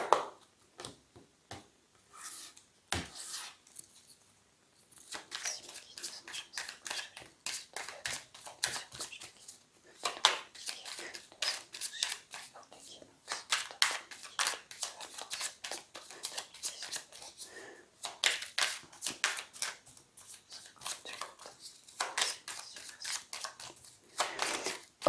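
Lenormand oracle cards being shuffled and cut by hand: dense runs of soft papery flicks and riffles, with a few sharper taps, close up and fairly quiet, continuing without speech.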